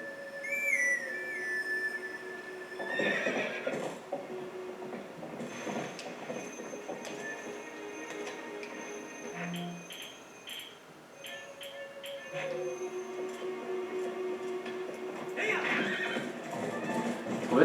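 A horse whinnies, followed by clip-clopping hooves and more neighing over faint electronic game tones in Zelda: Twilight Princess, with a whistle-like call early on.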